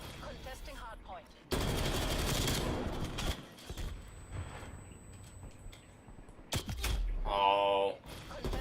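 Gunfire erupts in a hardpoint match of a video game, with loud rapid bursts of automatic fire, scattered single shots and a closing volley, partly under a player's talk.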